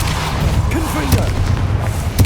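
A Confringo blasting spell goes off in Hogwarts Legacy as a single loud, deep boom with a rumbling tail, set against busy game sound and music.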